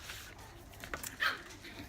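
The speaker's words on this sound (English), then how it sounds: "if you hear any growling in the background, that's my 6-week-old Cavalier King Charles puppies" Six-week-old Cavalier King Charles puppies give faint, brief growls and whimpers in the background, a few short yips and grumbles spread over a couple of seconds.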